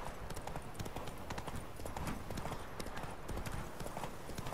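Roach, a horse in The Witcher 3, trots with a steady, quick clip-clop of hooves at moderate distance, the rhythm unbroken throughout.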